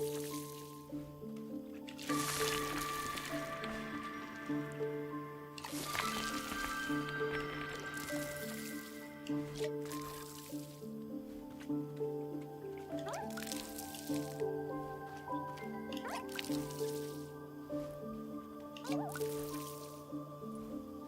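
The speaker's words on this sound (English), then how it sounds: "It makes a cute sound when I water it." Plants are watered in a cozy video game, and each pour gives a soft squishy, dripping splash. The bursts repeat every few seconds over a steady tonal game-music bed.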